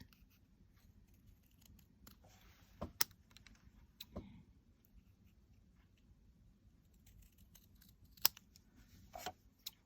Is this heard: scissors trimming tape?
yes